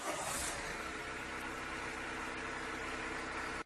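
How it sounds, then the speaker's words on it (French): A car engine idles steadily after an oil change, a continuous even hum with a faint broadband hiss, fairly quiet and alone before it cuts off abruptly at the very end. "on va démarrer le moteur pendant au moins 10 secondes pour que l'huile monte dans la cartouche"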